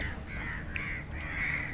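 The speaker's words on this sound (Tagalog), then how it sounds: "Dami yung uwak guys." A flock of crows cawing among mangroves near a village outside Abu Dhabi, with harsh calls repeating at moderate distance over steady background noise.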